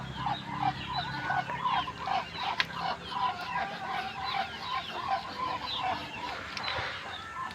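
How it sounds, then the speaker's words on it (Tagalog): A noisy mixed flock of chickens clucking busily and running, with scattered squawks and flapping bursts as birds scurry about, loud and close throughout. "Takbuhan yung manok eh."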